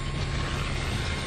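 Aircraft in the Call of Duty Black Ops 3 video game roar overhead as a loud, steady engine drone with a deep rumble and no break.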